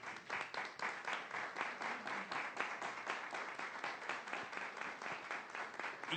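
Audience at a book presentation for a legal encyclopedia applauds with steady, even clapping, moderately distant and sustained throughout.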